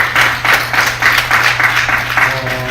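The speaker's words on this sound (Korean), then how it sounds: "박수." Church congregation clapping in a Sunday service, loud and close with distinct rhythmic bursts of many hands striking together in a steady beat, a faint sustained tone underneath.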